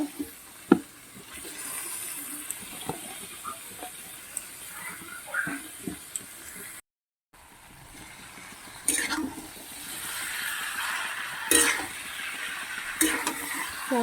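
Chicken pieces, about 1.6 kg, stirred and sautéed in a pan with ginger, garlic, onion and spices, giving irregular scraping, stirring clatter and a steady sizzle with occasional sharper knocks, with a brief gap midway.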